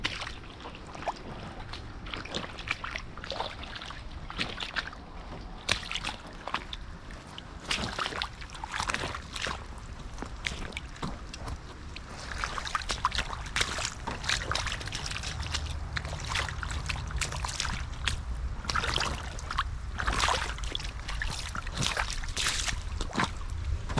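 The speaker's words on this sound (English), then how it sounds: "I can rinse my boots off now" Muddy boots rinsed in water over shale at a rainy homestead: irregular sloshing and splashing with scattered drips and trickles, close by and fairly loud, growing busier in the second half.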